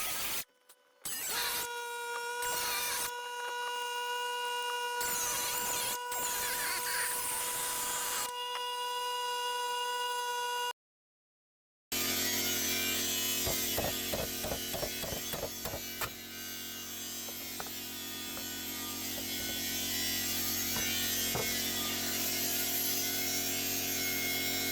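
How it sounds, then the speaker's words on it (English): A cutoff wheel grinds straight vent cuts into the fiberglass-style nose panel of a Nissan 300ZX, a sustained high, harsh whine broken by short stops, then a rougher, louder grinding stretch after a brief gap. "use the cutoff wheel for the straight lines"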